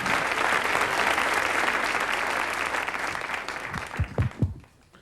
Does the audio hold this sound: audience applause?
yes